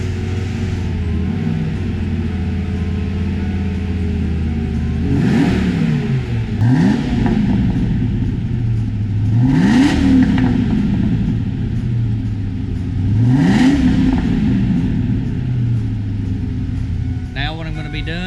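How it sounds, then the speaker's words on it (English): A car engine idling after a Seafoam treatment, then revved slowly several times in rising, spaced sweeps that fall back to a steady idle, close and loud, with a voice briefly at the end. "I'm going to crank the car, keep it running, and start doing some slow revs"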